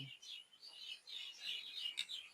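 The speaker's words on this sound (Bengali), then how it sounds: "পাখির কিসির মিসির শব্দ গাছে যে পাখিরা দোল খাচ্ছে" Small birds chirp and twitter continuously in trees on a farm on a cloudy, breezy day after rain, faint and distant, with no talking.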